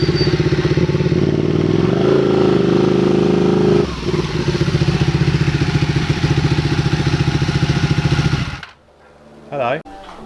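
A friend's cafe racer motorcycle idles close by with a steady, chugging engine rumble and a slight rise in pitch, then cuts off abruptly near the end, leaving quiet with a brief faint noise.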